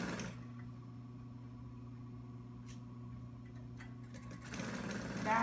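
A sewing machine drives through four layers of a tee-shirt quilt with a steady, low mechanical hum and buzz that swells slightly near the end, with no talking.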